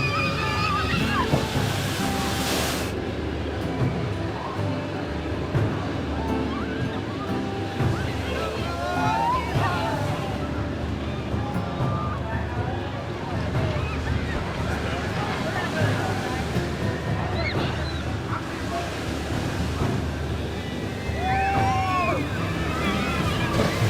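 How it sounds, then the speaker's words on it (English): Amusement park water ride boat plunging down a 45-foot drop into a tidal wave of water, with continuous heavy sloshing and splashing throughout, under steady narration. "The ride plunges boatloads of park guests down a 45-foot drop and into a tidal wave of water, drenching both riders and onlookers."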